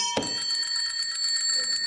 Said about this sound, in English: See if anyone rings my bell.